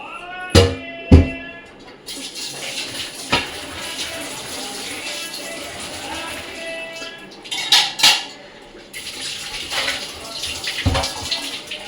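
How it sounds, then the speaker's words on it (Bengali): Ceramic plates from a new dinner set clink and clatter while being washed under running tap water in a home kitchen, with sharp loud knocks early and later, over a steady close rush of water. "কালকে যে ডিনার সেটগুলো নিয়ে এসেছি এর মধ্যে আজকে খাওয়া দাওয়া করবো এগুলো একটু ধুয়ে"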